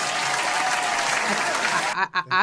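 Sustained applause from a podcast audience fills the clip with dense, even clapping, then breaks off near the end into a few louder, separate bursts.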